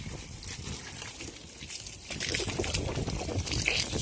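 Water running at a tractor on a farm, a continuous close splashing trickle that grows louder and fuller halfway through.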